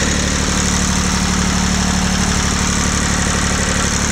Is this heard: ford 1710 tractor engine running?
yes